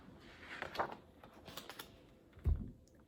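Typewriter keys clacking in a farm barn, a few scattered light strikes followed by one heavier thump, close and otherwise quiet with no voices.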